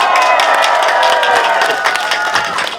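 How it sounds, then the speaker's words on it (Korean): Crowd applause and cheering at a Korean political campaign rally, dense and loud, holding steady throughout with scattered shouts mixed in. "뜨거운 박수 부탁드립니다"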